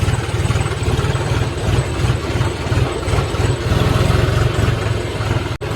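John Deere 5050D tractor engine idling close by after a muddy run, a steady low rhythmic diesel chug with even pulsing throughout.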